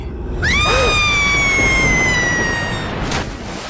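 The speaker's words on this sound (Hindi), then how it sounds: "चुनारगढ़ के आसमान में ये चीख अक्सर सुनाई पड़ती है" A sound effect from a 1994 Doordarshan TV serial: one long, high, sustained shriek echoes across the sky, sliding gently downward in pitch over a rumbling background, with a brief burst of noise as it fades.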